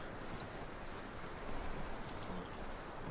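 Horse hooves clip-clop at a walking pace in the Red Dead Redemption 2 game world, a faint, fairly even stream of soft steps with no one speaking.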